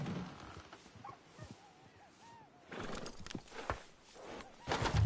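A horse in a PS4 video game whinnies and neighs with rising and falling calls, then its hooves clop over steady ambient game noise, with voices talking at times.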